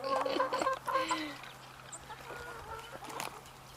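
A hen in a backyard coop clucks in a few short bursts close by, then goes quieter, with faint farmyard ambience and a low steady hum underneath.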